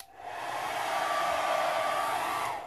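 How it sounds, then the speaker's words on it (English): A hairdryer blows heat onto resin from up high, a steady close whooshing roar of fan and airflow that holds constant for a few seconds with no talking. "I will hit it with a little bit of heat from my hairdryer and from up high"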